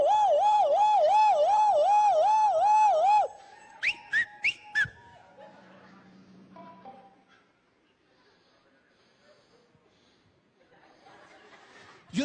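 A voice imitates a car alarm with a loud, wavering siren-like whoop repeated rapidly for a few seconds, followed by short whistled blips and quiet murmuring.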